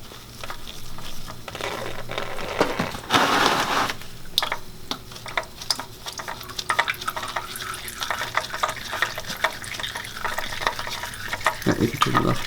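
Motor oil drains from an Infiniti G35/350Z into a drain pan in a steady, pattering stream, with a louder gush early on and a faint mechanical hum underneath.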